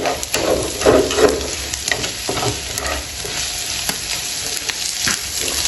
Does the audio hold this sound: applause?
no